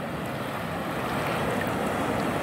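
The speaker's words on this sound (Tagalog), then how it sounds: "ayan naman alon" Continuous rushing wash of sea waves at a clear-water beach in Samar, with a hissy, windy texture, steady and fairly loud, with no voices.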